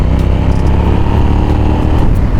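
A loud Suzuki SV650S motorcycle engine runs steadily up close, a continuous low rumble with no pauses or talking.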